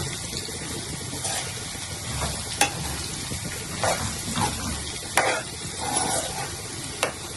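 Sizzling from a frying pan of potato fry with a few sharp scraping knocks as a spoon stirs in turmeric and chilli powder, the hiss continuous underneath.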